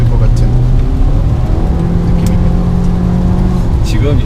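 A 2017 Nissan Altima 2.5 SL's engine pulls steadily under acceleration on a test drive, a continuous low drone with road noise beneath voices talking over it.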